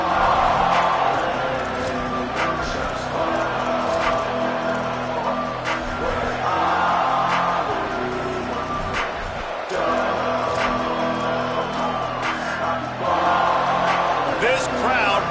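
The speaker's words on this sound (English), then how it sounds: "This crowd bringing an ear-splitting welcome to their visitors" A dense, roaring stadium crowd at a Georgia vs Texas A&M college football game, a loud continuous wash of cheering and yelling with swells and bursts, with voices mixed throughout.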